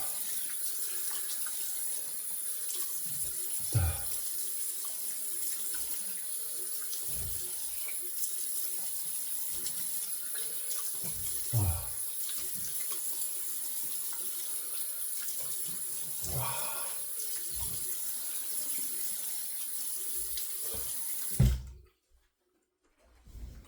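A bathroom tap runs steadily into a sink during rinsing after a shave with a single-edge razor, with occasional splashes and knocks as hands move through the stream before the water cuts off near the end.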